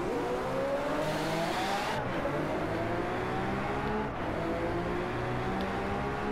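Lamborghini Aventador LP 720-4 engine in the racing game DRIVECLUB, a loud, continuous roar rising through the revs with gear shifts and tire noise, driving steadily with no talk.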